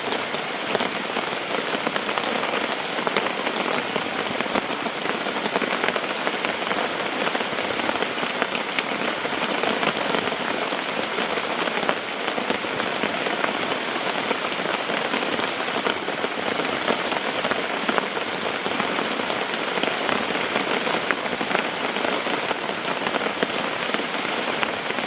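Heavy rain pours steadily onto a tarp over a hammock camp, a dense, even hiss and patter that holds constant throughout with no talking.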